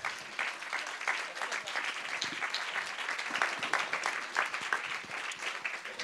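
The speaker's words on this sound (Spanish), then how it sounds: "un aplauso para nosotros" An audience at a documentary presentation gives warm, sustained applause, many hands clapping together in a steady, moderately loud patter.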